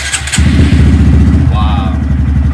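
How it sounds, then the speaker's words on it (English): A 2018 Honda Grom with a Yoshimura R2 exhaust cranks and fires on a cold start, settling into a loud, close, steady idle with a rapid thumping pulse; someone speaks briefly partway through. "this is a cold start, first time ever."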